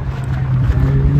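A Maruti 800 car with an aftermarket exhaust revs with a deep, steady low rumble close by for about a second, engine note holding loud and even throughout.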